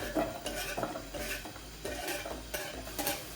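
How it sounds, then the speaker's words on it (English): Onions going into a pan that was used earlier, with a steady clatter of utensil and pan contact, scraping and stirring sounds in bursts throughout, close and moderately loud. "I'm going to add some onions in there."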